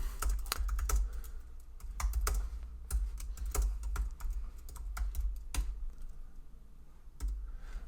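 Steady computer keyboard typing, a run of crisp keystrokes in quick irregular bursts with short pauses, close and fairly quiet.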